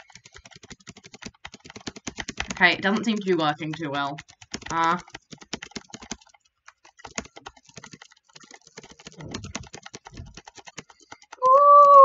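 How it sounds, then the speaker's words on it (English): Rapid computer keyboard tapping, W and space pressed together over and over in a dense clicking stream, with someone talking briefly between bursts and a short tonal game sound near the end. "I'm just clicking all three jump buttons at once"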